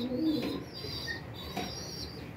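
Soft coos from released pigeons with a brief flutter of wings, fairly faint against an outdoor background hiss.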